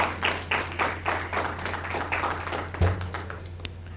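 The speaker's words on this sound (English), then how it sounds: "Can we give a round of applause?" Sparse audience applause at a research symposium, a scattering of hand claps spread across a few seconds over a steady low hum, with one louder clap near the end.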